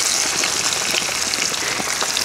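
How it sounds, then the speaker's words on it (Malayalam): Mackerel fry in hot coconut oil in a pan, a loud, close, continuous crackling sizzle with no talk over it. "2, 3, 4, 5 എണ്ണം നമുക്ക് ഒറ്റ ട്രിപ്പിൽ വറുത്തെടുക്കാം."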